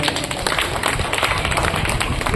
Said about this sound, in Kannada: ಗುರುವಿಗೆ ಜೋರಾದ ಒಂದು ಚಪ್ಪಾಳೆ ಬರಲಿ